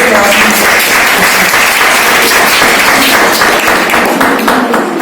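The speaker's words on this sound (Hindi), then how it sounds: "आप तालियां बजा के दिखाइए" Loud, dense applause from a gathered audience at an Urdu literary and cultural competition, steady broadband clapping sustained for about five seconds with no break.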